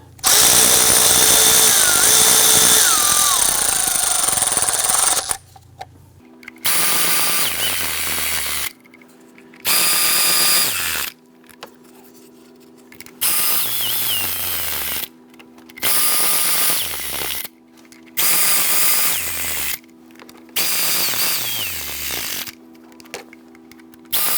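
A power tool runs in repeated short bursts, snugging valve cover bolts one after another on a 2017-2020 Hyundai Elantra engine, working from the middle bolts outward; a long continuous run opens, then about eight close, loud pulses follow with quiet gaps between.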